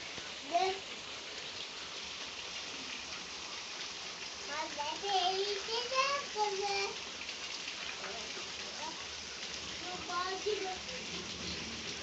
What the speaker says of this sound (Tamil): என் வீட்டு சமையல் கட்டுக்குள்ள மழை பெய்யுது பாருங்க